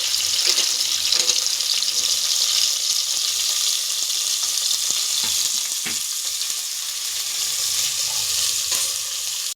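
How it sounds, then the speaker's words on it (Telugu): Onions fry in hot oil for a simple pulao while vegetables go into the pan: a loud, steady sizzle with a few clattering knocks as pieces drop in and get moved around. No one speaks. "స్మెల్ ఇప్పుడు గమగమాని వస్తుంది ఆనియన్ ఫ్రై అవుతా అంటే దానికి"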